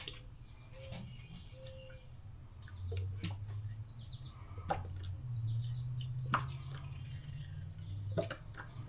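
Motor oil pours into a Corvette dry-sump system during an oil change, making a quiet, steady trickle with occasional drips and splashes, close by with no talking.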